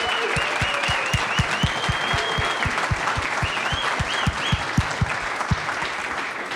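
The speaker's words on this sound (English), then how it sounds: "A round of applause for this crowd" An audience applauds at a student pitch demo day, dense sustained clapping filling the room with a steady low rhythmic thump underneath, loud and continuous throughout.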